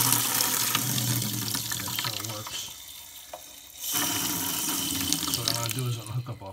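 Water rushes and gushes out of a home water heater tank being drained during an anode rod replacement, a loud continuous splashing flow that briefly drops off midway and then surges back.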